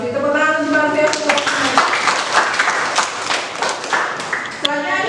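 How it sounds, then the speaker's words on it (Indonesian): Participants in a teacher-training class clap for a presenter after her infographic presentation, with a brief burst of claps running beneath ongoing talk. "Tepuk tangan untuk Mbak Rosmi."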